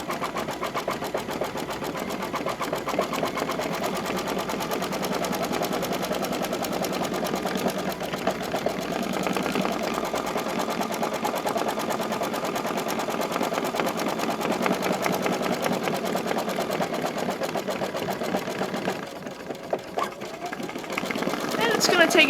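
An embroidery machine sewing a dense satin stitch around an applique edge on a tea towel, a steady rapid mechanical whirr that runs unbroken and loud for the whole stretch.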